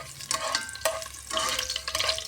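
Garlic drops into a hot pan for chicken adobo, and a loud, close, crackling sizzle follows with bursts of spitting and stirring, no one speaking.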